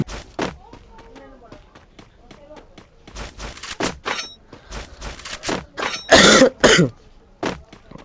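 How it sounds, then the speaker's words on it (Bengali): A person coughs in short harsh bursts, loudest and clustered near the end, between spoken words and sparse clicks from a mobile shooting game. "অনেক কাশি হয়েছে।"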